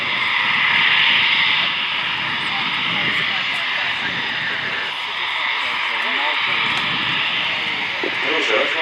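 A Pilatus PC-9M turboprop trainer performing an aerobatic display at an airshow, its engine a steady loud droning roar with a broad hiss, slowly shifting in pitch as the aircraft manoeuvres, with a commentator talking over it.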